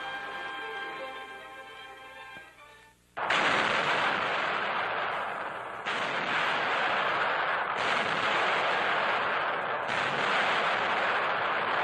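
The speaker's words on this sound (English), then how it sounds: "artillerymen test the powerful new 240-millimeter howitzers, some of the heaviest weapons in service" Heavy 240-millimeter howitzers firing, artillery pieces that hurl 300-pound shells: after a brief tonal passage, a loud, sustained roar of blasts fills the rest, dense and continuous, with no speech.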